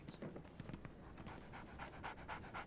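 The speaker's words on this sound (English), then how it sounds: "So, Barnes has a dog now" A dog in a Sherlock Holmes detective video game pants in quick, steady breaths. The panting is close but quiet, with no talk.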